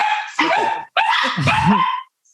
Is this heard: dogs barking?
yes